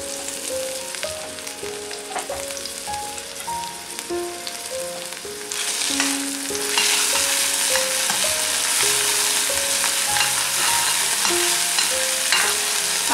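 Onion frying in oil with a steady hiss that swells louder partway through as the onion goes in, under a background of soft melodic music, with no talking.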